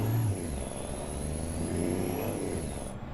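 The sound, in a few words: modded truck engine revving in Freightliner Cascadia, American Truck Simulator video game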